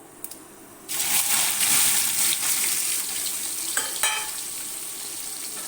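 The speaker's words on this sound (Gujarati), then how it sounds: "પછી નાખશું એમાં ભીંડા" Okra hits hot oil already tempered with cumin and asafoetida, bursting into a loud, steady sizzle that stays strong for several seconds, with a few sharper spits and crackles partway through.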